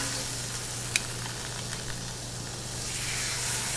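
Butter and olive oil sizzle in a cast iron pan on a Kamado Joe grill, a steady soft frying hiss that swells louder toward the end, with a couple of faint clinks and no talking.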